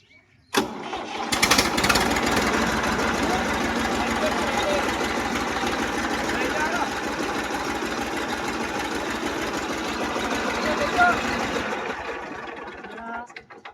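A tractor engine starts with a sharp burst and then chugs loudly and steadily nearby in a fast, even rhythm before fading out near the end, with possible voices around it.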